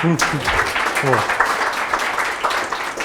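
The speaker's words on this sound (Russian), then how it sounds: "Аплодисменты" An audience at a pizza-sauce presentation breaks into applause, a dense clatter of clapping with a voice heard briefly at the start, continuing at steady loudness.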